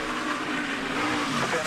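A NASCAR stock car spins at Daytona during Speedweeks racing, engines roaring loudly with a rising tire squeal amid the pack, while a commentator talks over the broadcast.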